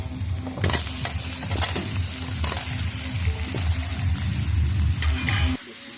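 Potatoes go into a hot pan of oil with garlic and ginger paste over a home clay oven, sizzling loudly and steadily with stirring scrapes close by, then the sizzle drops sharply near the end.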